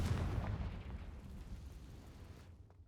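A Confringo fire spell blast in the video game Hogwarts Legacy, a loud booming explosion with a rumbling tail that fades over about two seconds, with no talk.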